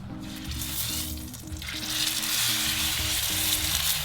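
A ribeye steak laid into a hot cast iron pan to cook in a butter bath, the sizzle swelling louder and denser after a brief quieter start, close and continuous with no speech.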